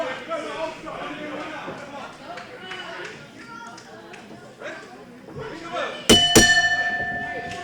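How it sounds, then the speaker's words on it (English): A wrestling ring bell clangs several times near the end, bright and ringing over the live crowd's chatter and commentators talking throughout. "There's the bell and the main event's underway."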